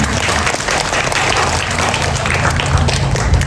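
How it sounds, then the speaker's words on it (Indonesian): An evening Mass congregation at an outdoor prayer garden applauds, dense, steady clapping from a large crowd that fills the whole stretch without pause. "Tepuk tangan untuk panjenengan semua."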